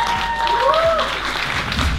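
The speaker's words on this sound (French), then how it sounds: "On peut l'applaudir." Applause from an audience at the Afropreneur Awards 2019 ceremony, a dense, steady wash of clapping kept up for the whole stretch, with a faint tone and some murmuring mixed in.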